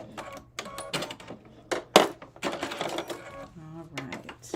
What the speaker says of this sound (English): I can do a little back stitch here